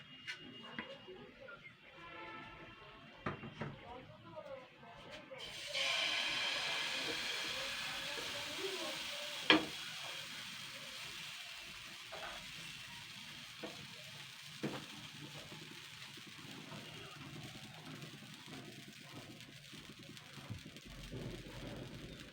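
Atta and potato batter hits a hot griddle, bursting into a strong sizzle that swells suddenly and then fades slowly, with someone talking beneath it and a few small clicks.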